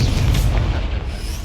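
A Confringo blasting spell detonating in a Hogwarts Legacy duel, a loud, deep booming burst with a rumbling tail filling the short moment.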